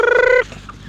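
A pet chicken lets out a single short, loud, harmonic squawk or cluck close by, cut off abruptly and followed by faint rustling quiet.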